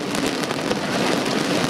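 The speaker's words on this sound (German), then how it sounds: "wie das hier noch regnet" Heavy rain pours steadily during a thunderstorm with no wind, a dense, continuous hiss of drops drumming on surfaces, loud and close throughout with no talking.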